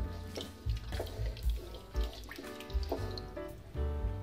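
Two bowls of water splash and run into a pot of vegetables and rice for veg pulao in uneven bursts, with clattering knocks of cookware mixed in, fairly close and moderately loud.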